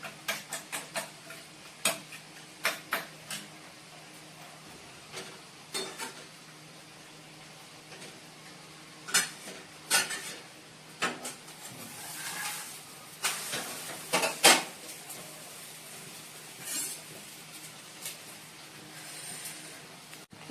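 Eggs fry with onions in a pan, making a faint, steady sizzle under irregular sharp clinks and scrapes of a spatula or utensil against the pan, close and without speech.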